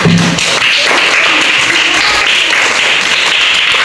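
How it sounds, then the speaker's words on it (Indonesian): Pupils in an Indonesian classroom clap their hands together in a loud, dense burst of applause that carries on for a few seconds, close by, with some faint voices mixed in. "kita tepuk tangan"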